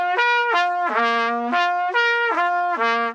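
A trumpet plays through the harmonic slots in a choppy way, with distinct separated notes stepping up and down in a repeating pattern, clear and close, with no other sounds.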